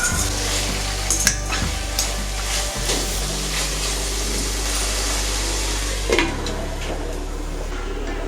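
Makhana curry base with tomato pieces frying in a covered kadai, a steady close sizzle with occasional clinks and scrapes of stirring, no voices.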